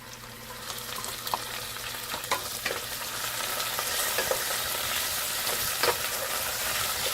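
Shrimp fry and sizzle in a pan with onions for Chinese takeout-style fried rice, a steady close hiss broken by clatters of stirring and tossing, with no talking.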